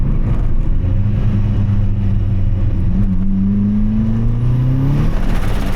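A car pulling hard in second gear, the engine note rising steadily in pitch as it accelerates, loud and close throughout.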